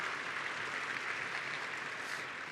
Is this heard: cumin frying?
no